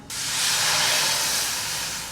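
Water is added to hot oil and red chili paste in a pan for bhungla batata. It sets off a sudden, loud, steady sizzling hiss that fades slightly over two seconds, with no talk.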